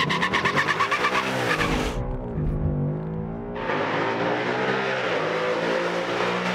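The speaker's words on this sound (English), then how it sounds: "Little wheel hop off the launch." A loud 2019 Ford Mustang engine roars at a drag strip launch on E85, then briefly bogs with a juddering wheel hop before revving hard again, close and continuous.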